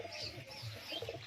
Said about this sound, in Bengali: এটা একটা মাদি পায়রা রয়েছে দেখো,